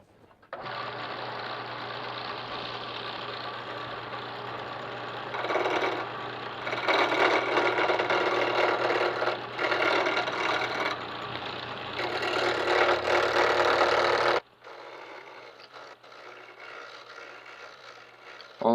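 A wood lathe spins a hammer handle being turned freehand, a steady motor whine and hum with louder rasping bursts as the tool cuts the wood, close and continuous, then dropping to a quieter run near the end.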